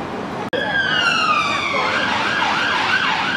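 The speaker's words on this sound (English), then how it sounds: "A siren's not very medieval" Emergency vehicle siren wailing through a medieval town, loud and fairly near, its rising and falling tones sweeping steadily over street traffic noise.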